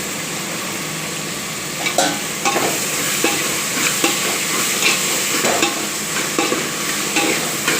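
Tomatoes and onions sautéing in oil with salt and turmeric, a steady close sizzle broken by repeated scrapes of a spoon stirring the pan.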